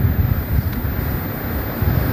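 Wind blows steadily across a rice field at harvest time, a continuous loud rushing that buffets the microphone with low rumbling gusts.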